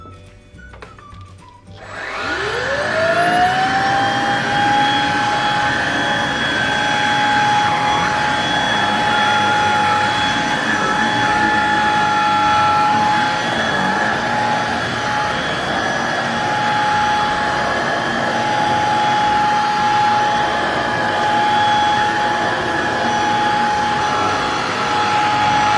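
Shark DuoClean IF260UK cordless vacuum cleaner switching on and spinning up to a loud, steady high whine with a broadband rush, running continuously up close with no talking.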